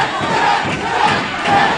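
A live wrestling crowd at an SLA Circus Maximus 2019 match roars and shouts together in a dense, sustained wave, urging a trapped wrestler to tap out to a submission hold.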